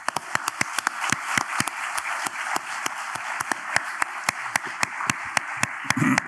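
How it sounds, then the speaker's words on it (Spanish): Sharp, evenly spaced hand claps ring out steadily from a small audience at a literary evening welcoming author Juan, crisp and close over quiet room tone for about six seconds. "le vamos a dar un fuerte aplauso y paso la palabra a Juan"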